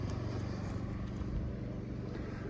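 A four-wheel-drive swamp boat with a Vanguard motor and Voodoo exhaust runs steadily, a loud, close, low engine drone with a rough throbbing exhaust note and no pauses.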